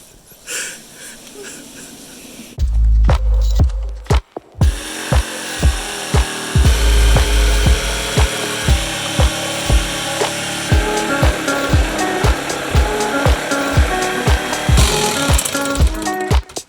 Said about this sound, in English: It's much easier to cut across the grain with the jigsaw